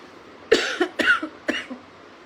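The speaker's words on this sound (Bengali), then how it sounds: "কথা বললেই বেশি বেশি কাশি উঠতেছে" Three sharp, close coughs in quick succession, each a harsh burst with a short rasping tail.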